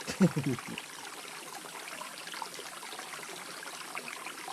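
A forest stream trickles softly, a faint continuous watery hiss that follows a brief voice at the start and carries on quietly to the end.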